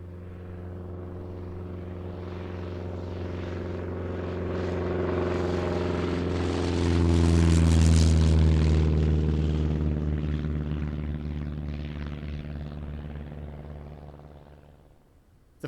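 A Lockheed Constellation's propeller engines drone in a deep, steady roar that swells as the plane draws nearer, peaks at about the middle, then slowly fades away, with no voices.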